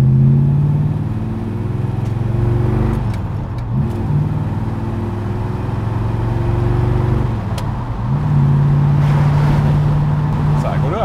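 A deep V8 engine rumbles steadily close by, its pitch rising and falling as it revs and shifts.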